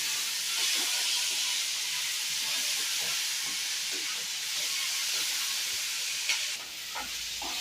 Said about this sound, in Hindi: इसे भूनते रहिए अच्छी तरह से।